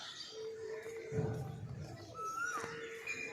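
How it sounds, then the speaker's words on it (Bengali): An Asian koel calls outdoors on a morning walk with a thin, rising whistled note, faint and some distance away, over a low steady hum and soft background murmur. "আবার হাঁটছি আর একটু কোকিলের ডাকটা শোনানোর জন্য"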